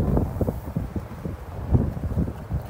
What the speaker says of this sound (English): that wind's picking up.